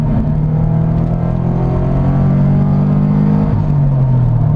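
Subaru BRZ sports car engine droning steadily at close range with a sustained low harmonic hum, pitch dipping near the end as revs fall during downshifts, no voices.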